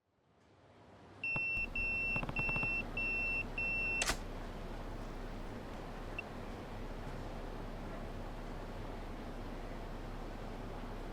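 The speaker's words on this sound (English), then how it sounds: "Kiryu's getting another beeper page here" A pager beeps in the video game Yakuza 0, a string of short, bright electronic pips in a rhythmic pattern for about three seconds, ending in a click, then a steady low hiss.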